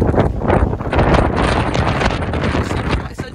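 Wind roars across a hilltop near the Druid's Stone in the Peak District, loud, continuous gusting buffeting close to the microphone, with faint speech partly buried beneath it.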